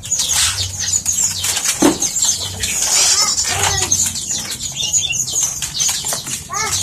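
Birds flutter and flap their wings inside a box or cage as they are packed, with rapid, restless bursts of wing beats and occasional chirps close by, along with faint background voices.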